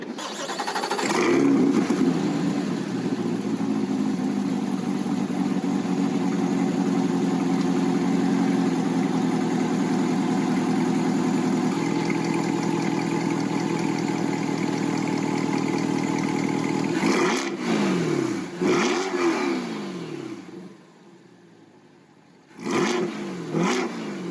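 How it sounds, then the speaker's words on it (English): A Corvette C8 engine idles loudly and steadily for a long stretch, then revs up in several quick throttle blips, dropping off and roaring again. "And speaking of exhaust, let's hear that engine."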